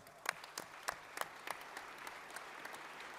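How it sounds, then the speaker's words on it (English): Audience applause for boxer Paul Butler, a fairly faint, thin round of scattered claps with a few sharp louder hits early, tapering into a steady soft patter. "Ladies and gentlemen, big round of applause for Paul Butler."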